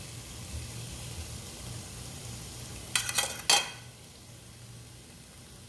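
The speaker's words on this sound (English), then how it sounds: "I'm just gonna turn the corn over to make sure that it's getting cooked on each side." Corn kernels crackle in a pan over a soft, steady background hiss, with a short burst of louder sizzling and scraping near the middle as the corn is turned.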